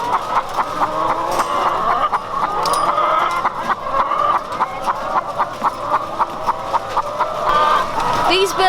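Caged egg-laying hens clucking, a dense flock chorus of overlapping clucks and squawks with occasional louder calls, loud and close, with no talking heard.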